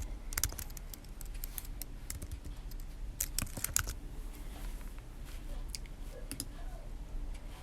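Typing on a computer keyboard, quick irregular key clicks in bursts with brief pauses, soft and close against a faint steady background hum.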